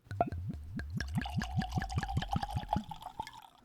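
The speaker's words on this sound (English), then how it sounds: "It's a pour." Old Fitzgerald 7 year bottled-in-bond bourbon glugs out of the bottle in a quick run of rhythmic gurgles, about a dozen close, fairly quiet pulses that settle into a thin trickle and then stop, with no voices.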